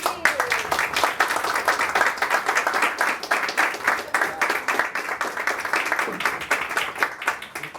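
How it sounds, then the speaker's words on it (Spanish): Audience applause at a book presentation in a bookshop: steady, dense clapping from a room of people, fairly close, with a few voices mixed in. "Puede aplaudir eso"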